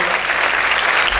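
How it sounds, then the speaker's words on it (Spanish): Loud, continuous applause from a church congregation welcoming a reciter to a Mother's Day service, steady clapping throughout with no talk over it. "fuerte aplauso"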